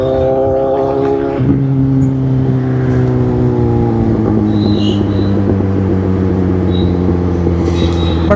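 A Kawasaki Z800 motorcycle engine runs loud and close with a steady, droning multi-cylinder tone that holds at one revving pitch and then shifts to a lower sustained level, with no talk over it.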